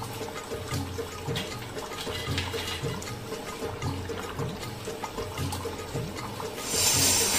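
Clean water runs and splashes steadily while food is rinsed by hand in an Agri-style kitchen, a close continuous pouring and swishing that swells near the end.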